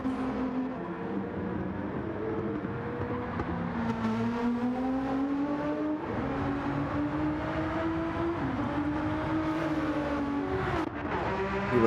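A GTR race car engine drones loudly and continuously, its pitch rising and falling through gear changes as it holds speed on track, with no talk over it.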